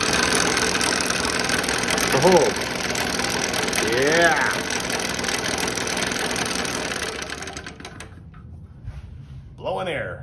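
A restored Delta P-20 scroll saw runs with its air blower, giving a steady mechanical whir and rattle with rising whistling tones before it winds down and cuts off; a person speaks briefly near the end.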